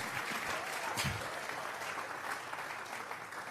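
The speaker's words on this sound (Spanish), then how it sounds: "Vamos a regalarle ofrenda de palmas al Dios de la gloria siempre." A church congregation applauds with sustained, dense clapping that holds steady and loud from start to finish.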